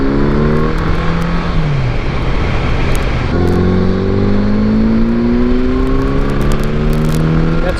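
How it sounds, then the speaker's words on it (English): A 1981 Honda GL1100 motorcycle revs hard at full throttle in second gear, its loud engine note climbing steadily in pitch, dropping at a shift, then rising again, close and continuous with no talk. "That's full throttle in 2nd gear"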